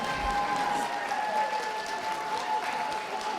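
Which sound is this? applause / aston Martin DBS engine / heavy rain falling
applause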